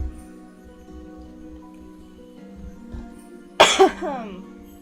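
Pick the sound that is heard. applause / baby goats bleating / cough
cough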